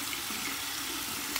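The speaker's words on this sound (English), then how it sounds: "let's get the Osma Allen block, run it on some cold water" Cold water streaming from a tap over an Osma alum block in a sink, a steady hissing splash that stays even and close throughout the short moment.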